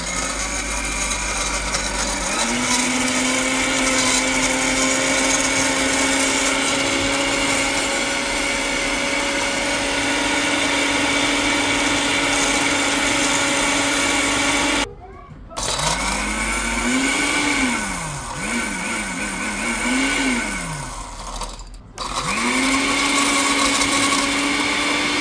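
A Karaca Multiblend 1000 W blender crushes ice in water with a loud, steady motor whine and grinding rattle. The motor pitch drops and climbs as ice chunks catch, then it stops twice briefly and restarts.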